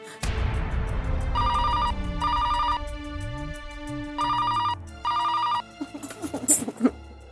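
A telephone rings in repeated electronic double bursts, four evenly spaced trills over a dramatic music bed, followed by a brief rising musical sting.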